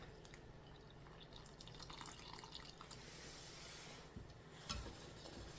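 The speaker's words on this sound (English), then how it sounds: "Now we're gonna put in our hot water." Hot water is poured into cornbread batter with a faint, steady trickle and light splashing in a quiet kitchen, with no voices.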